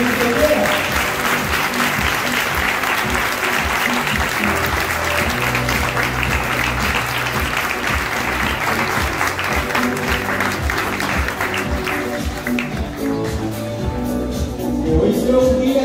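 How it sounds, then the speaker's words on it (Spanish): Loud, sustained crowd applause at a quinceañera celebration, cheering a couple announced by the host. Clapping runs steadily over music playing underneath and thins out slightly near the end. "Un fuerte aplauso para Laura Lerín y José Ventura"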